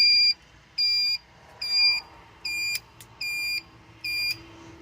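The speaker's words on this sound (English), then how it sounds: "But turn signals sound like a horn because they make beeping noises." Turn signals on a small machine beeping in a regular on-off pattern, six steady electronic tones about half a second each, close and fairly loud, with a faint low engine hum underneath.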